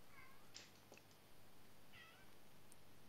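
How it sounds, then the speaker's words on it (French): A small cat meows indoors, two faint, high mews separated by a pause, heard alone over quiet room noise. "navré si vous entendez des petits miaulements"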